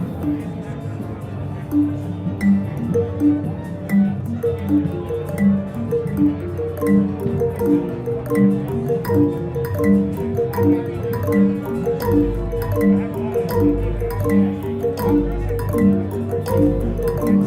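Yamaha CP73 electric piano notes with delay echoes trailing each phrase, layered melodic lines blending into a continuous, softly rhythmic wash.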